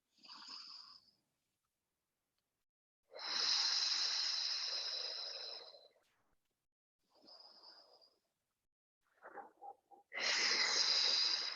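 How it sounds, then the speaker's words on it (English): Deep breaths in and out during a Pilates exercise with no equipment, heard as long, close, airy wheezing breaths separated by silent pauses, with no talking. "do a few deep breaths here"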